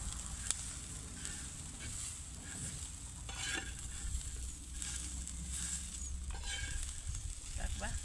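Garlic, peanuts and green chillies sizzle and crackle in a hot pan while being stirred, a steady close frying hiss with scraping stirring strokes throughout.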